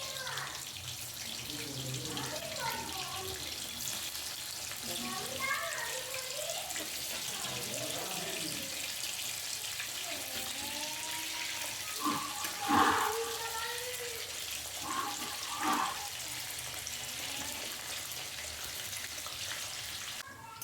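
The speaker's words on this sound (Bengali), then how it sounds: "তেলটা ভালোভাবে গরম করে মিডিয়াম টু হাই ফ্লেমে কপির টুকরো ভেজে নিচ্ছি" Cauliflower pieces frying in well-heated white oil over a medium-high flame give a steady, even sizzling hiss throughout, with a voice talking over it.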